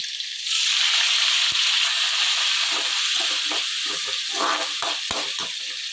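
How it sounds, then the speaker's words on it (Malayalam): Onion, tomato, green chili, ginger and garlic sautéing in oil for egg curry, a steady close sizzle and hiss with soft stirring clicks and scrapes, no talk. "ആദ്യം എണ്ണ ഒഴിച്ചിട്ട് സവാളയും തക്കാളിയും പച്ചമുളകും ഇഞ്ചിയും വെളുത്തുള്ളിയും എല്ലാം കൂടെ ഒരു 10-15 മിനിറ്റ് നേരം നന്നായിട്ട് വഴറ്റിയെടുക്കുവാണ്"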